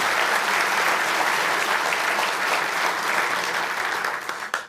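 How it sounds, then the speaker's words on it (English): A banquet crowd at a YSU scholar-athlete event claps for honored athletes, with steady, full applause that tapers off abruptly in the final moment. "Give a round of applause for those"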